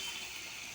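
Fried spice mixture sizzles steadily in a hot pan as a home cook prepares a curry, with a short sharper hiss near the end as water hits the pan.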